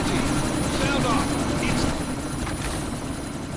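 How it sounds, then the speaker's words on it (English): A helicopter about to take off in the video game Deus Ex: Mankind Divided, its loud, steady rotor and engine roar filling the scene while voices shout over it. "That chopper's about to take off!"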